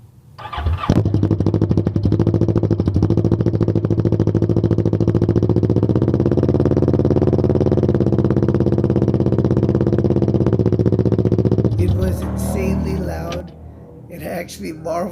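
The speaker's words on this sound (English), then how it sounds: "I was very curious on what my bike sounded like without no muffler" A motorcycle with no muffler runs loud and raw, a harsh, throbbing engine roar held steady for several seconds. Near the end it cuts back to a rougher, uneven rumble.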